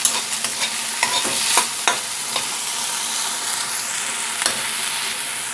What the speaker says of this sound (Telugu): దీన్ని తాలింపులో బాగా ఫ్రై చేసుకోవాలి